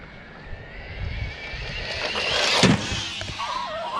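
An Arrma Infraction 3S RC car drives across a parking lot. Its electric motor whines steadily and rises toward a brief louder peak, with wind buffeting the microphone and no talking.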